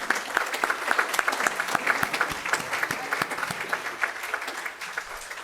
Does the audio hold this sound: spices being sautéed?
no